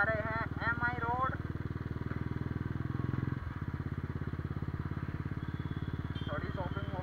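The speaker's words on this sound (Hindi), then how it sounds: "and we are on classic 350" A Royal Enfield Classic 350 motorcycle is ridden through the city at night. Its close engine thumps in a rapid, even rhythm throughout, and brief voices can be heard near the start and end.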